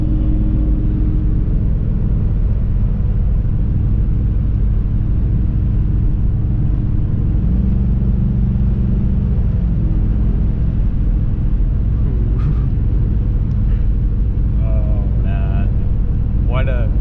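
A Jeep XJ with an LS engine swap cruises along, its engine and road noise forming a loud steady rumble inside the cabin, with a few faint higher sounds toward the end.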